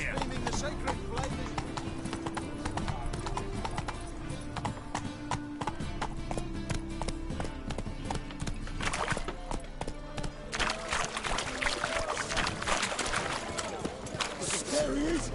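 A horse gallops in The Witcher 3, hooves clip-clopping in a steady rhythm under game music, combat effects and spoken dialogue.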